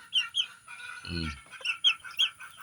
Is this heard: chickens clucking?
yes